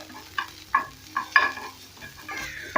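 Garlic and ginger toast in a hot pan, a steady close sizzle broken by several scraping stirs at an uneven rhythm, with no one talking.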